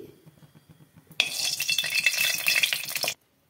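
Mustard oil and ghee hit a hot kadai, a quiet patch giving way to a sudden loud, dense sizzle that holds for about two seconds and then cuts off.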